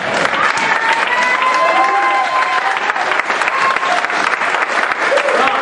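A church congregation claps loudly and steadily in praise, a dense sustained wash of applause with scattered voices and shouts mixed in throughout.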